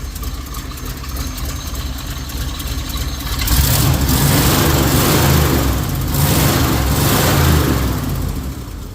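A 1960s Dodge truck engine idles low and steady with a rough, lumpy rumble, then picks up slightly in volume and texture partway through before settling, heard close with no talk.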